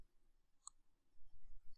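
A single faint, crisp computer mouse click on an import menu, isolated in a near-silent room with some low rumble afterward.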